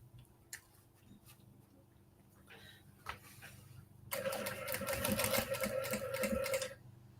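A sewing machine runs a normal straight seam on a large tote bag with a faux leather pocket, a fast, steady mechanical whirring and ticking for a few seconds after quiet handling noises, close and fairly loud.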